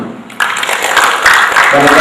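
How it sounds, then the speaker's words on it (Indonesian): Audience applause at a 2011 ATAKI national meeting in Jakarta, a dense clatter of clapping that swells after a quiet start and holds steady, with some voices mixed in. "Tepuk tangan dong."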